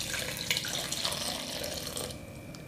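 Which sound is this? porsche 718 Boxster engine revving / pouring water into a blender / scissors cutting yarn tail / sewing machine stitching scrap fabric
pouring water into a blender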